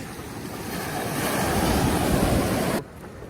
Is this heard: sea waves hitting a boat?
yes